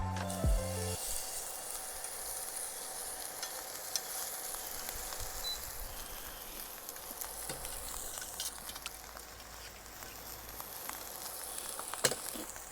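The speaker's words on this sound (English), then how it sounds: "we're gonna grab the steak and we're gonna lay it away from us" A steak lies in a hot pan and sizzles with a steady, hissing crackle that continues for over ten seconds, punctuated by occasional sharper pops and a faint clunk near the start.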